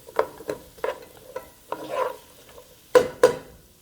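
Finely chopped garlic is stirred in a pot for a chicken vegetable stew, with repeated scraping strokes of a utensil over a soft sizzle and two sharper knocks near the end, no talk.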